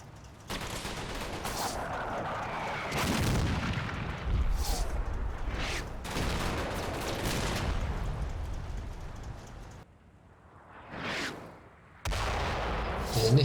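An artillery barrage in the Combat Mission wargame, with repeated heavy booms and crackling gunfire rolling in bursts, a brief lull, then more loud impacts.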